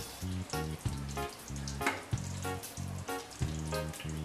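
A chicken cutlet coated in egg batter fries in a pan with a continuous, close sizzle, overlaid by a repeating low tonal hum that pulses on and off in a steady rhythm, and no speech.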